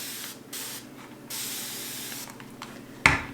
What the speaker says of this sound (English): So I'm going to spray my counter.